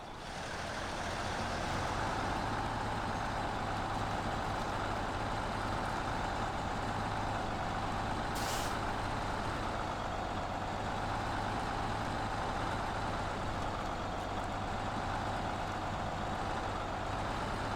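A logging truck hauling a double load of logs crawls over rocks, its engine a steady low drone held at a constant level, with a brief higher hiss partway through and no talk.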